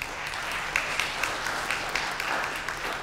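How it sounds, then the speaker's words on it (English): A seminar audience applauding after a motivational speaker's prompt, a moderate, steady spread of clapping with a few sharper individual claps poking out, heard alone and fairly even throughout. "Give yourselves a round of applause."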